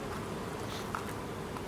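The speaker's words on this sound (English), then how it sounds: "Here we have a nice cluster of bees." A packed cluster of honey bees buzzes at an open hive, a dense, continuous drone close by with no voices over it.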